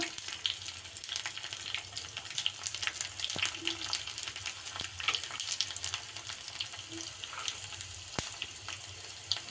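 Garlic cloves and cumin sizzling steadily in hot oil for a rasam tempering, a continuous crackling fry with small pops, fairly close and with no voices over it.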